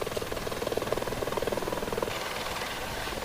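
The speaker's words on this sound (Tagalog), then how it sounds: "Lula ng helicopter dumating sa Dinalungan, Aurora ang mag-amang Vice President Jejomar Binay" A helicopter arrives at Dinalungan, Aurora, on a visit to a storm-hit area. Its rotor throbs in a steady, close, fairly loud pulse that continues throughout with no voices.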